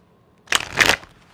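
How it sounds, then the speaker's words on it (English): Tarot cards being shuffled by hand in one brief riffling burst of papery rustle, close and moderately loud, with quiet before and after. "So let's get a little shuffle"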